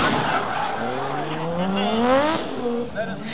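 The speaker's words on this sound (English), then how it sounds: "taking a winning lead run over Adam Davies, who spun into turn 1." A drift car spinning out at a D1NZ Pro-Am round at Mt Smart, its tires squealing loudly in rising, sliding tones with engine noise underneath, all close and continuous.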